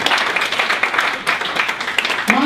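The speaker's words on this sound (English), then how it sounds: "Round of applause for Matthew, everyone." Audience applause for a volunteer named Matthew at a holiday tech pitch competition, a dense steady patter of many hands clapping for a couple of seconds at close range.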